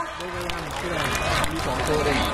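A large outdoor crowd claps loudly at a Lantern Festival celebration in Khon Kaen, a dense, steady wash of applause filling the air with voices mixed in.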